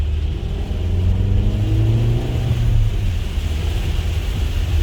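A Volkswagen Caddy 2021 engine hums low and steady, its pitch rising gradually as it accelerates, heard from inside the cabin with a constant road rumble.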